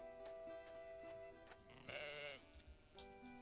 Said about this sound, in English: I'm gonna shear the sheep.